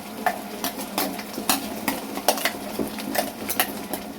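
Onions fry in oil over full flame while a spatula scrapes and clacks against the pan in a regular rhythm of sharp strokes above a low continuous sizzle, close up with no speech.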